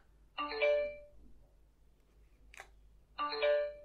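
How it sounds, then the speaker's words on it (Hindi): Snexian Rock Z flip keypad phone playing its open/close tone, two short bright melodic chimes about three seconds apart, with a faint click between them in an otherwise quiet room. "इस फोन का फ्लिप ओपन क्लोज करने से एक टोन बजता है"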